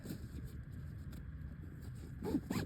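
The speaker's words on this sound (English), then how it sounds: "And it zips." A bag's zipper is pulled closed in two short, quiet rasps near the end, after a stretch of soft background rustle.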